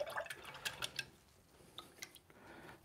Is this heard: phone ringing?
no